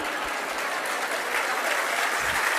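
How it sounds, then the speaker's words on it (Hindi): Applause from a crowd at a Jain sermon, a thick, continuous patter of many hands clapping at once that stays steady and fairly loud all through, with no speech. "अब ये सबसे ज्यादा तालियां बज गई।"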